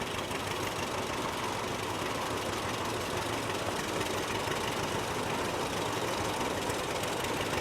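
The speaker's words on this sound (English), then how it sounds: "A 1946 John Deere D, driven by Tyler Davis" A 1946 John Deere D tractor runs in a parade at a country picnic, its engine a steady, fairly loud, rough rumble with a constant chugging texture and no pauses.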